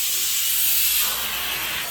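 A pressure cooker lets off steam as its whistle blows while dal sambar cooks, producing a loud, continuous hissing rush that lasts about two seconds with no voices.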